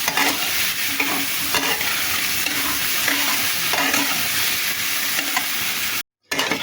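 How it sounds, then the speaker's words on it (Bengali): Potatoes with salt and turmeric frying in oil in a pan, a loud, steady sizzle with repeated stirring scrapes, briefly cutting to silence near the end. "এবার আমি আলুটাকে ভালো করে ভেজে নেব"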